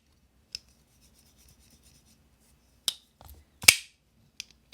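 A WE Knife Co. Skreech pocketknife's push-button blade snaps open and shut in sharp, isolated metallic clicks spread across a quiet stretch, a few louder, near and crisp, with faint fiddling between them.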